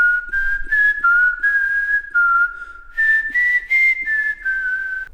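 A single person whistles a melody up close, clear tonal phrases separated by short breaths, with no talking.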